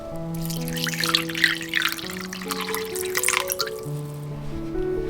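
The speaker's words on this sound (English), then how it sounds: "Start by rehydrate the seaweed with some water." Water is poured over dried seaweed in a kitchen to rehydrate it, a close, splashy trickle lasting a few seconds over soft background music before tapering off.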